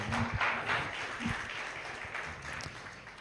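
Church congregation at Eternal AG church in Bhopal clapping for the preacher, a short burst of steady applause that fills the room evenly, with a few low thumps mixed in.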